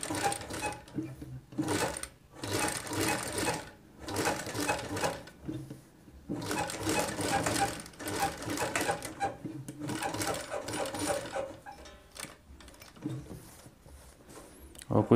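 Bursts of close sewing-machine stitching along the edge of Rajputi suit fabric, short rattling runs separated by brief pauses, with someone speaking in between.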